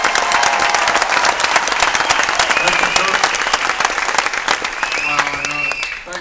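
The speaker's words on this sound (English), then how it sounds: "thank you so much for the welcome applause" An audience at a Buckeye Cruise for Cancer charity event gives welcome applause, loud, dense and continuous clapping with some cheering, and a voice speaking briefly under it near the end.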